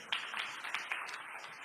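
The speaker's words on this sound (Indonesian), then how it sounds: "Tepuk tangan yang meriah begitu." Applause from a church congregation during a sermon service, a dense wash of many hands clapping at moderate distance, steady throughout with a few sharper claps standing out.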